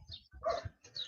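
Dogs belonging to a woman out walking bark in short bursts, fairly close and moderately loud, with a faint yip between them.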